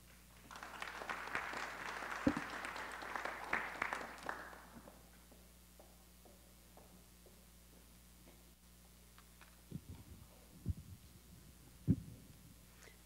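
Short round of applause at a public census hearing in Buffalo, faint and distant, rising for a few seconds and then fading into room hum with scattered knocks and small sounds.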